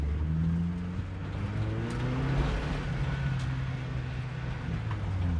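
1998 Toyota Camry demolition derby car driving in second gear, a steady low engine drone with humming driveline tones and a faint mechanical whine, continuous and close, heard from inside the car.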